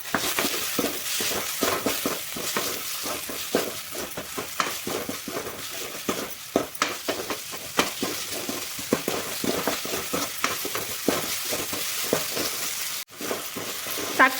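Tomatoes fry in a pan with ginger garlic paste, a continuous loud sizzle broken by repeated scraping and stirring strokes of a spoon against the pan, with no talk.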